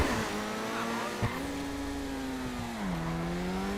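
A Progen Itali GTB all-wheel-drive sports car races in GTA 5, its engine a steady loud whine that dips as it shifts and corners, with a brief thump and faint tire noise.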